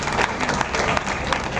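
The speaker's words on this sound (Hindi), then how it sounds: "एक बार सभी के लिए जोरदार तालियां बजाओ" Loud crowd applause at a Gurugram political gathering, dense continuous clapping with a few cheers mixed in, filling the whole short stretch.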